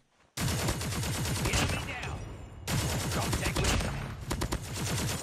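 A mythic AK-47 in a ranked video game fires loud, rapid automatic bursts. Two long sustained volleys are split by a brief gap, and the shots are close and dense.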